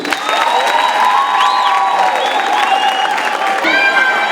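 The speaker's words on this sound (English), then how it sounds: "So people, let's give it up to Afrika Tikkun for being a light in our communities. A round of applause for Afrika Tikkun." Audience applause and cheering for Afrika Tikkun at an alumni day event, a steady loud wash of clapping with shouts and whistles running through the whole stretch.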